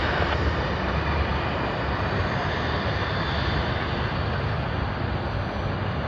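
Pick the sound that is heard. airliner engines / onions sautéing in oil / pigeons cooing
airliner engines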